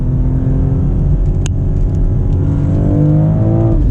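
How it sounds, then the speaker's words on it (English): A BMW X3M Competition with an 8-speed ZF torque-converter automatic drives on rough roads, its engine rumbling loudly up close; a sharp click marks a downshift partway through, then the engine pitch rises as revs climb. "We're downshifting ourselves here, and it's giving me those downshifts."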